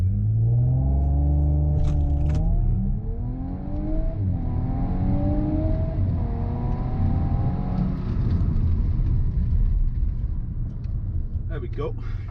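Audi S5 quattro launching hard from a standstill toward 60 mph, its engine note climbing in a loud, continuous roar that drops at each gear change and builds again.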